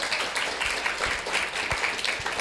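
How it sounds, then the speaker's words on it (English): Audience applause fills a room at a business accelerator cohort event, a steady wash of many hands clapping at moderate volume with no voices over it. "Give all of yourselves a round of applause"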